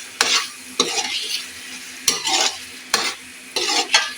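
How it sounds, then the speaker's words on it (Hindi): Spiced chicken liver being fried in masala over low heat, a soft sizzle broken by several sharp scrapes and stirs of a utensil against the pan, close and with no voices. "इसको 4 से 5 मिनट तक हम ऐसे ही हल्की आंच पर भूनेंगे"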